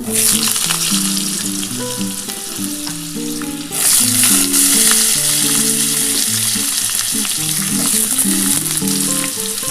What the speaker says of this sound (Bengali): এই তেলের মধ্যে আমি আলু, শিম, বেগুন একসাথে কিন্তু ভাজবো।